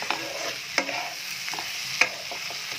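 Potatoes fry in oil with Kashmiri chilli and turmeric, giving a steady close sizzle broken by a few sharp spatula scrapes and taps against the pan, with no one speaking.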